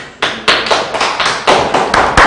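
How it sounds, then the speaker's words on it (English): A workshop audience claps for a presenting group at a maternity care media lab, a close, fairly loud burst of hand claps and taps that comes in uneven pulses rather than sustained applause, with no talking. "Another round of applause."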